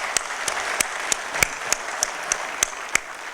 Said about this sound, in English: So I'd just like to give a round of applause to Tom,